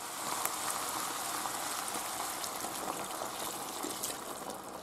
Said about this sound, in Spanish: Ya se ha rehogado la cebolla y ahora echamos el vino.